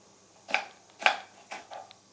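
A knife cuts snake gourd into long pieces in a home kitchen, giving three crisp, close chopping strikes at even half-second intervals, followed by a softer fourth contact.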